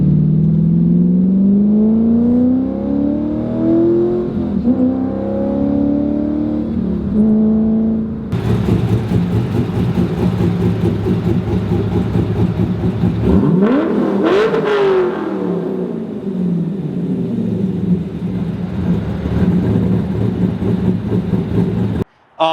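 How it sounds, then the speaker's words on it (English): A C5 Corvette with Cook's long tube headers, high flow cats and a Billy Bullet axle back exhaust revs loud and close, its engine pitch climbing and falling, then rising to a sharp peak before settling into a steady rumble. "This car has Cook's long tube headers, Cook's high flow cats, to a Billy Bullet axle back exhaust."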